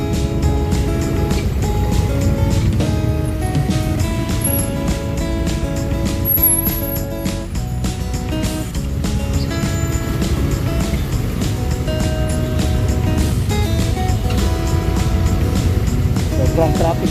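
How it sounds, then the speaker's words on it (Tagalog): Dense, loud road traffic rumbles continuously near a wet market on a busy weekday morning, engines droning with horns and music-like tones layered on top and a voice speaking over the din. "Sobrang traffic talaga dito sa Munmok. Dito lagi nagbi-build up ng traffic."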